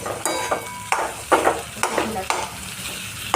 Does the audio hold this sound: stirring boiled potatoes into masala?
yes